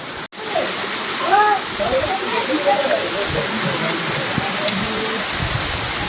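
Loud, steady rush of a stream flowing down stone steps in heavy rain on a mountain trek near Trimbakeshwar, continuous and close, with a voice speaking briefly over it.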